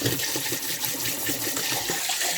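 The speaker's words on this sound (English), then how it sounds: "I'm going to let that run with hot." Hot water pours steadily from a kitchen faucet during meal prep for Mexican rice and roasted salsa, a continuous close splashing hiss with no pauses.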